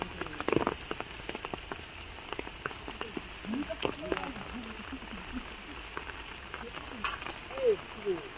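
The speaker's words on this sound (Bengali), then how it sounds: "একটু আগে থেকেই বৃষ্টি হওয়া স্টার্ট হয়ে গেছে" Rain patters steadily on surfaces close by, with scattered louder drips and a person talking quietly beneath it.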